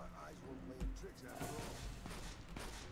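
A companion fires at an enemy during combat in the video game Fallout: New Vegas, with a couple of muffled gunshot thumps over continuous game voices and background noise.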